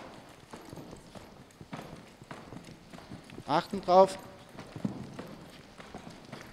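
Horse hooves thud and clop at an easy, steady pace during a riding spin maneuver, beneath continuous speech, with a couple of louder hoof strikes partway through.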